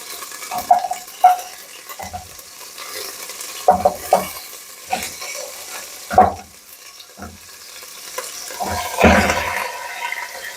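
Chicken pieces are added to a hot pan with ginger paste for a chicken curry, then stirred. They sizzle and fry steadily while a spoon scrapes and clatters against the pan in irregular strokes, close up, with no talking.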